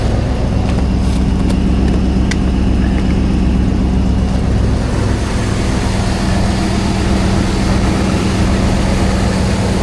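A van engine idles steadily after a jump start on a freezing, ice-covered day, with a constant low rumble and a few faint clanks early on.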